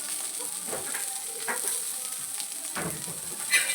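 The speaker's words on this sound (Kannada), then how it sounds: "ಎಲ್ಲ ಫ್ರೈ ಮಾಡ್ಕೋಬೇಕು ಈ ಥರ ಈರುಳ್ಳಿ ಎಲ್ಲ ಹಸಿ ವಾಸನೆ ಹೋಗಬೇಕು ಅಷ್ಟರವರೆಗೆ ಫ್ರೈ ಮಾಡ್ಕೊಳ್ಳಿ" Sliced large onions frying in oil in a hot pan for Mangalore-style chicken sukka, a steady sizzle running throughout with a few louder bursts as they are stirred.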